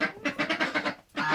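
Geese honk close by in a quick series of loud, nasal calls, a short pause, then another burst of honking.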